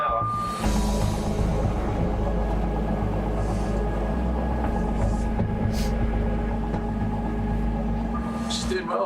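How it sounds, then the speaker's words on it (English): A passenger train powers up toward its 70 mph line speed, a steady low rumble and drone of traction filling the cab with faint whines and clicks, while people talk quietly over it. "And then start opening the train up to line speed, which is 70 mile an hour."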